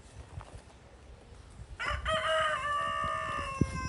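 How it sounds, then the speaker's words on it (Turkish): A rooster crows once, loud and nearby, its long strained call rising out of quiet outdoor background. "Horoz, horoz."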